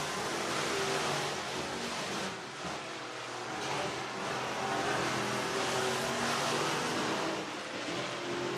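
Race cars on a speedway at Whynot Motorsports Park in Meridian, Mississippi, after the green flag, a continuous dense engine roar that swells and dips slightly with the passing pack.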